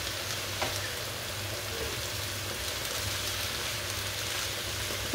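Green beans seasoned with sweet pepper, salt and black pepper grill in a pan. They give a steady, close sizzling and crackling hiss throughout, with no speech, and a brief clink of stirring comes at the end.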